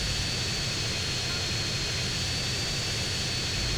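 Propeller airplane engine droning steadily during a race in GTA San Andreas over Las Venturas, a continuous loud hum holding level from start to finish with no talk over it.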